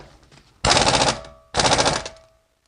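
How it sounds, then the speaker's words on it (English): Two loud, rattling bursts, each about half a second, come from a 1/2-inch pneumatic impact gun fitted with a torque stick. They are close-up, separated by a brief pause, with no speech. "let me show you what it looks like with the 1/2-inch pneumatic gun"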